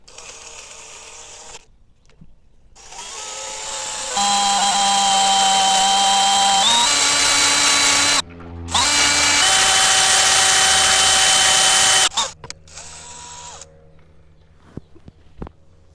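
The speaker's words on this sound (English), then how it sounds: "this is boring into the main shaft, and when we put these bolts in here and thread them in, it's going to lock this down to the main shaft" A boring tool drilling into a gearbox main shaft during a reverse gear install, a steady high-pitched tonal whine with a brief stop midway, close and loud, with quieter handling sounds before and after.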